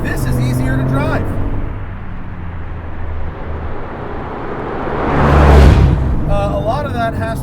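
A Porsche 997 GT2 RS at speed, its engine a steady broad roar that swells to a louder rushing peak midway, with people talking over it at the start and end.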